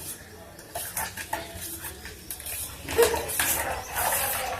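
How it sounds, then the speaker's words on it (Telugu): A utensil stirs a mixture of jaggery, junnu powder, cardamom and pepper powder in a pot, scraping and clinking steadily against the metal with a faint wet sizzle underneath. "పౌడర్ ఇది ఉండలు లేకుండా బాగా కలుపుకోవాలి."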